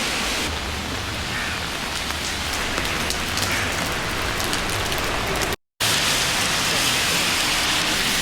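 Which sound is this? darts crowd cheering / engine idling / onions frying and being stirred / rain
rain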